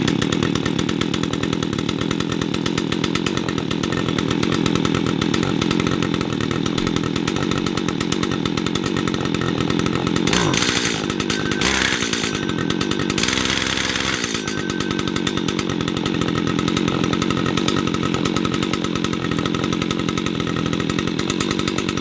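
Makita EN4950H four-stroke petrol hedge trimmer running steadily after starting, a loud continuous buzzing engine drone held for the whole stretch with a brief dip in the middle and no talk.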